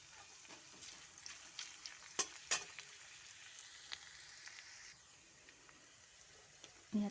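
Onions and mustard seeds frying in hot oil in a home kitchen for an Assamese cherry tomato chutney, a steady soft sizzle broken by a few sharp crackles and stirring clicks.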